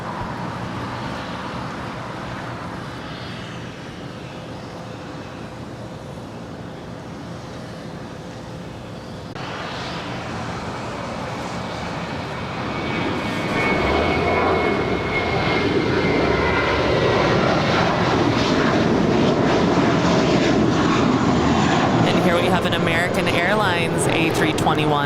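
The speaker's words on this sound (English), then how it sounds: "that is flight 601 coming in from Amsterdam with KLM on a 787-10" A KLM Boeing 787-10 Dreamliner arriving at LAX, inbound from Amsterdam, its jet engine roar building from a steady distant rumble into a loud, broad wash that holds to the end, with a voice talking over it at first.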